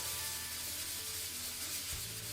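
Paste hand-rubbed into a concrete countertop to fill pinholes, a continuous loud, close scrubbing and rasping texture with no pauses and no voices.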